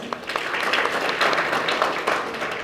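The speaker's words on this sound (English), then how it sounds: "Can we have a round of applause?" A student induction audience breaks into applause, a dense wash of many hands clapping briefly and fairly loudly without any voices over it.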